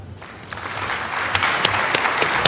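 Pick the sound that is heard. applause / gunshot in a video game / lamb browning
applause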